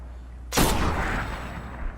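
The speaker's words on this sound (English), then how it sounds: "Pop off a few shots." Several gunshots from a player's weapon firing at an ogre's eyeball during the Crota's End raid in Destiny on PS4: a loud sharp blast opens, then a long rumbling decay with a smaller pop near the end.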